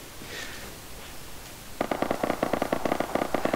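Video game gunfire erupts partway through: a rapid automatic burst of close, sharp shots following a quieter stretch of ambient game noise.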